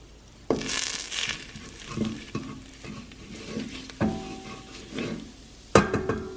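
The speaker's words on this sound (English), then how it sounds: "So now I am going to add 2 tablespoons of coriander powder. Fry for 10 to 20 seconds." Coriander powder frying in a pan of Indian paneer mixed vegetable curry base, a soft sizzle broken by repeated scraping stirs and sharp clanks of a spoon against the pan, close and with no talking.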